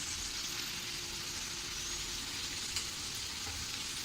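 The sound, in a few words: semolina-coated potato slices pan-frying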